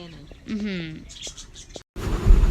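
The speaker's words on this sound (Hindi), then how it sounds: "ये देखें पीछे आ रही हैं तोतों की आवाज़ें" Parrots chirping outdoors, a few short tweets and squawks at moderate distance, partly mixed with a nearby voice and a burst of wind-like noise at the end.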